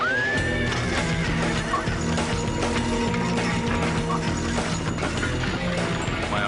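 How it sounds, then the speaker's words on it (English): Lead horses in a team whinny amid a noisy, chaotic rush of hooves, rattling harness and mechanical clatter at a Grande Prairie chariot race, with a loud, sustained neigh rising over the continuous din. "Colt's brother Chad steadies the lead horses"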